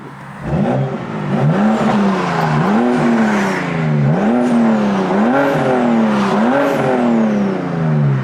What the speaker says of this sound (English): Let's give it a nice N55 big turbo kit rev.